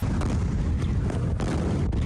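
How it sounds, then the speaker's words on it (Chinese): A fire on a vacant lot, with a dense, continuous low rumble and roar and a couple of sharper bursts near the middle and end, loud and heavy with no clear speech. "干市區外面連續爆炸聲音，強烈白光敢若天光。"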